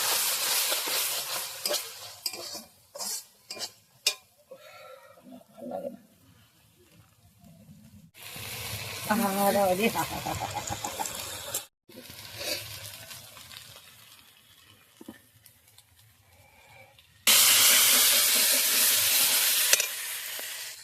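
Masala spice paste, with yogurt in it, sizzles and fries in a pan on a village stove, with stirring clatter early on and bursts of loud hissing steam that come and go.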